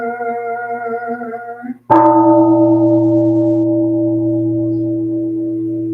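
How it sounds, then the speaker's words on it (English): A large Zen temple bell is struck once partway through, following a fading earlier tone; the loud, deep strike then rings on in a long, slowly decaying hum. "Here is the after sound of the bell."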